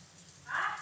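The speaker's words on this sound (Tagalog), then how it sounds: "Gumagana yung shower dito." A shower runs in the dark during a power outage, a faint steady spray of water that swells briefly louder near the end, with no talk.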